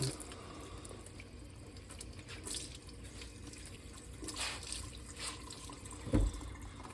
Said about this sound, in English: I'll get a towel like this, get it wet.